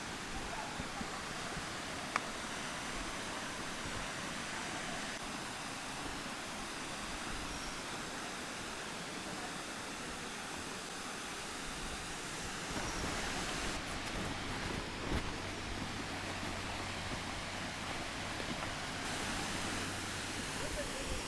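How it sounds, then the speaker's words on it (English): A waterfall near Kamshet roars as a steady, broadband rush that stays unbroken for over twenty seconds, with wind and outdoor ambience mixed in and a faint low hum joining partway through. "And finally we have found one waterfall."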